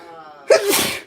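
A single loud sneeze, preceded by a faint tonal background and ending in a breathy burst, with no talking over it.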